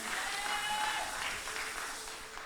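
A church congregation applauding during a bilingual service, a continuous spread of clapping from many hands that holds steady and fades slightly at the end.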